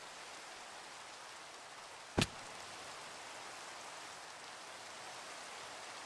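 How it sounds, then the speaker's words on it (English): Minecraft rain pours down as a constant, even wash of noise, broken once by a single sharp click about halfway through. "I feel like it's raining every time I join"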